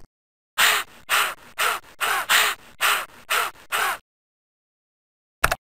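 Seagull calls in a preschool video game: eight loud, evenly spaced harsh caws in a steady rhythm, then a pause and one short burst at the end, with no talking.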